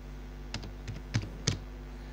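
Four light keystrokes on a computer keyboard entering an Excel COUNT formula, evenly spaced soft clicks close by over a low steady hum, with no talking.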